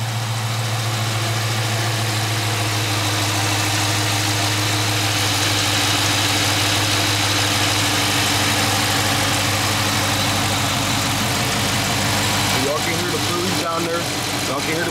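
A Dodge Charger with a 392 V8 idles just after startup, a loud, steady low drone with even mechanical texture that holds throughout, with brief handling noise near the end.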